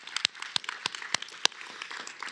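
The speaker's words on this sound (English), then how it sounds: "Round of applause for Richard." Scattered applause for a photographer during a live photography awards judging broadcast: a few sharp, irregular claps rising out of a quiet room tone, brief and fairly sparse rather than a full ovation, with no talk over it.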